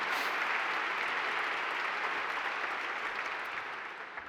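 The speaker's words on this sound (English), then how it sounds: "Give yourself a round of applause." Audience applause at Princeton's 2025 baccalaureate service, a steady wash of many hands clapping that holds for several seconds and gradually fades toward the end.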